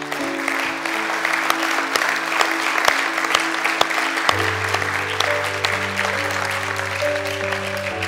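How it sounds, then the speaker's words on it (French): A church congregation claps together in sustained, dense applause over a held musical tone that shifts partway through. "est-ce qu'on peut applaudir tous nos salariés de l'Église?"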